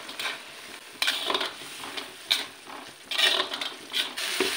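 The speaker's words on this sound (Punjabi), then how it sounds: "ਤੜਕਾ ਜਿਹੜਾ ਆ ਉਹ ਚੰਗੀ ਤਰ੍ਹਾਂ ਭੁੱਜ ਗਿਆ ਆ ਅਤੇ ਔਇਲ ਵੀ ਜਿਹੜਾ ਸੈਪਰੇਟ ਹੋ ਗਿਆ ਆ।" Tomato and garam masala tempering fries in oil in a pan, with uneven bursts of sizzling and spoon-stirring scrapes that rise and fall, close by.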